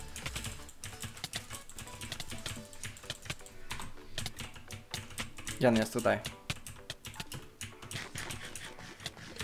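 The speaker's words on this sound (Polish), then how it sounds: "I klikam strasznie klawiaturę" Loud clattering keystrokes on a mechanical computer keyboard during a Minecraft survival session, dense rapid clicks running throughout under a man's speech.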